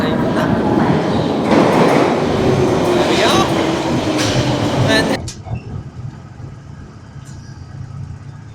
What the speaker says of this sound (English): is the final change of this video into Piccadilly line, which apparently should be arriving